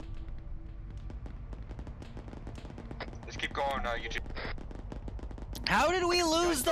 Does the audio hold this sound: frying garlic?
no